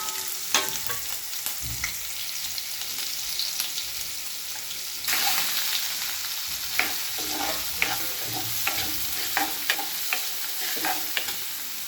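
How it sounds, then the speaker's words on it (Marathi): Chopped onions and green chillies for dal sizzle steadily in hot oil as they are stirred toward brown, with a bright, continuous frying hiss, sharper after a fresh addition, and occasional spoon taps against the pan. "याच्यात लगेचच आपण चिरून ठेवलेले 2 कांदे आणि मिरच्या टाकून घेणार आहे आणि हा कांदा आपण पूर्ण ब्राउनिश होईपर्यंत परतणार आहे।"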